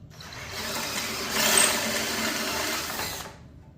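A drill bores a screw hole through a steering wheel on a street drift racing mower in one continuous whirring burst of a few seconds that swells in the middle and then stops.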